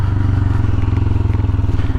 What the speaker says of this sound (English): Engine braking on a gravel road makes all the difference in the world.